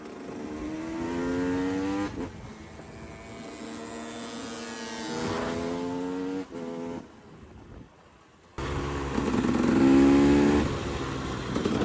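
A supermoto motorcycle ridden enduro-style through a forest gives a loud, close engine that revs up and down in repeated rising sweeps, dips briefly near the end, then roars back with a strong rev.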